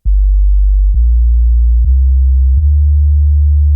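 A Modal Electronics Cobalt 8X synthesizer plays a deep, loud multi-oscillator analog-style bass line, four sustained notes followed by a fifth held note, each starting with a sharp attack.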